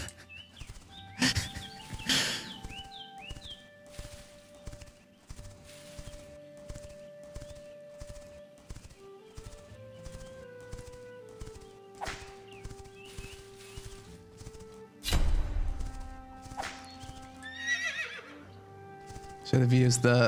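Horse sounds from the MMO game The Quinfall: steady clip-clopping hooves with a couple of sharp whinnies, at moderate volume.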